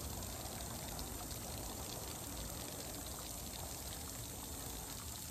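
Water runs from a hose into a plastic Polyform A1 buoy being filled, a steady, even rush of flow with no pauses and no voices.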